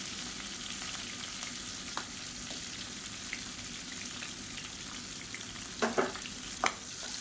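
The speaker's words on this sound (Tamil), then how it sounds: "சேர்த்துட்டு நல்லா வதக்கி விட்டுக்கலாம்" Shallots and green chillies sautéing in oil for a Tamil kuzhambu, giving a steady close sizzle with a few louder spatters and stirring scrapes near the end.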